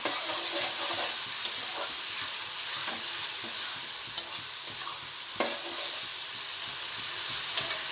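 Spiced goat meat sizzles steadily in a pan with a splash of water, a constant close hiss broken by occasional sharp scrapes and clicks of a stirring utensil.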